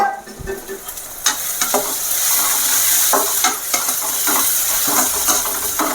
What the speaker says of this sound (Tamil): வல்லாரக்கறியை நல்லா வதக்கிடுங்க